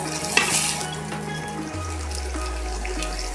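Scallops sear in a hot pan with a soft, steady sizzle and a brief clink near the start, while a low hum rises and holds underneath.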